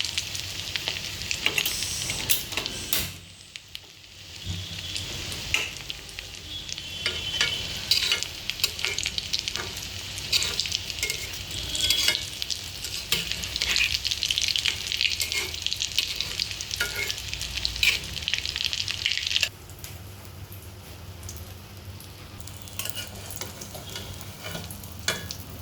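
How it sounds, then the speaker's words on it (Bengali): Potato chops frying in hot oil in batches give a steady, dense sizzle and crackle that carries on without a break, dipping briefly and easing slightly toward the end. "এভাবে এক এক ব্যাচে আমি 4-5টি করে চপ ভেজে উঠিয়ে ফেলছি।"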